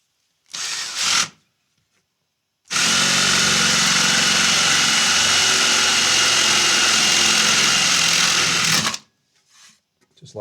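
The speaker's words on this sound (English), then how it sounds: "Going to drill some holes now" Power drill boring holes into a custom guitar body in a luthier's workshop, one long steady whining run of about six seconds, loud and close, preceded by a brief short burst.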